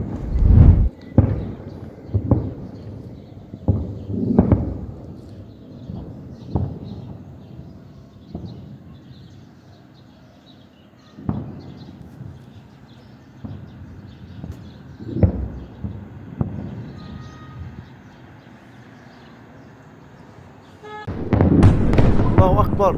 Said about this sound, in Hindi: वो 13 मिसाइलें कुछ इस तरह से सदरौत के इलाके पर दागी गई हैं।